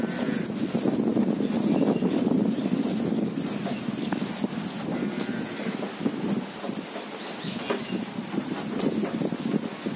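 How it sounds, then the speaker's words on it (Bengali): Strong wind gusts during a rainstorm buffet the microphone with a loud, rough roar that rises and falls in surges. Rain patters underneath the gusts. "এখানে প্রচুর হাওয়াটা বোঝা যাচ্ছিল।"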